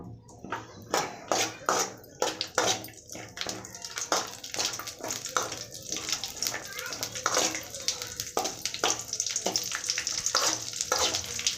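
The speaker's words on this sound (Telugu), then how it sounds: "కడాయి పెట్టుకొని ఇందులోకి బాదం పప్పు, ద్రాక్ష, జీడిపప్పు వేసుకొని వేయించుకుంటున్నాను." Almonds, raisins and cashews frying in ghee in a kadai, with close, steady sizzling and repeated sharp scrapes and taps of a stirring spoon against the metal pan.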